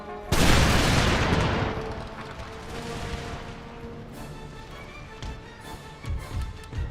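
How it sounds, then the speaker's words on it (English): Musket volley from infantry in Empire: Total War, a loud crackling fusillade of many shots at once, then rumbling echoes and scattered distant gunfire and artillery booms in a battle. "Give them a volley."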